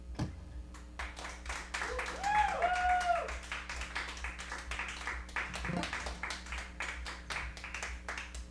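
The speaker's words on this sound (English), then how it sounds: "Hey, thanks for the applause." Audience in a nightclub clapping after a live song, a scattered patter of claps that builds and then tapers off, with faint room chatter and a brief tonal sound near the start.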